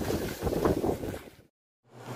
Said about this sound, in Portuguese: Muito vento.